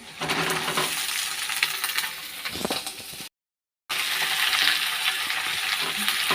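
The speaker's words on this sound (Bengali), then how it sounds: "এই যে পেঁয়াজটা অর্ধেকটা পিন ভাজা হয়ে গেছে। তো এখন সবজিটা দিয়ে দেবো।" Chopped vegetables hit hot oil with half-fried onions, giving a steady, close sizzling hiss that cuts out briefly midway and then resumes. Occasional clinks of a utensil sound against the pan, and no one speaks.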